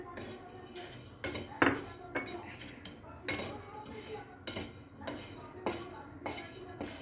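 Whole coriander seeds dry roasting in a pan, with a steady scrape of metal utensil and recurring clinks and taps against the pan, moderately close and unaccompanied by talk.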